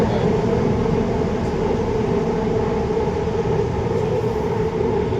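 A Namma Metro train rumbles into the station with a loud, continuous roar that holds steady throughout, with no talk over it.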